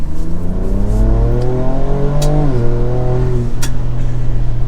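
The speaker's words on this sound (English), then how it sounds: "now with the exhaust, it also, like I said, sounds so good." A 2024 Ford Ranger Raptor V6 pickup with aftermarket exhaust revs loudly up through its range and then drops back to a throaty idle, with a deep rumbling exhaust note close by.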